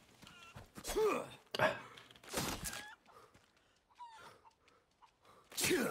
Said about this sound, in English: I got a chicken.